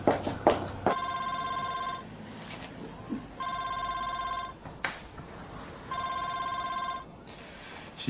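A telephone rings in repeated bursts, three rings of about a second each with pauses between, fairly clear against quiet indoor background with faint movement.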